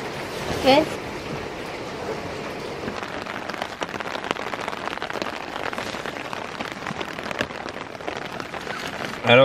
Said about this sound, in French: qu'il a beaucoup plu, qu'il pleut toujours